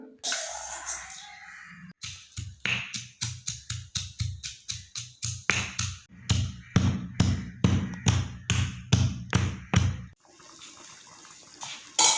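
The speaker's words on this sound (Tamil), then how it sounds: "நம்ம ஆல்ரெடி ஃப்ரை பண்ணி வச்சுருந்த பூண்டு மிளகெல்லாம் இடித்து எடுத்துக்கலாம்." Steady rhythmic pounding of fried garlic and black pepper in a mortar, about twenty heavy thuds in a row with a short pause partway, close and fairly loud, with no talking.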